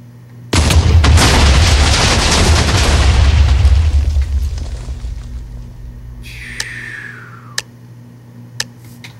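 A bomb explodes in a Roblox disaster game: one sudden, loud, close blast that roars and slowly fades over several seconds, followed by a few faint clicks and a short whoosh.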